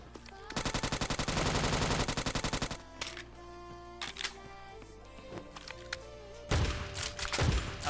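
Gunfire in the mobile battle royale game Scarfall 2.0: a long rapid automatic burst, then scattered single shots and distant exchanges, ending in another heavy volley, loud and close.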